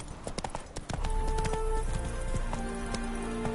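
Roach, the horse in The Witcher 3, gallops with a rapid, steady clatter of hoofbeats that grows louder and more continuous after the first second, under a layer of game sounds and music.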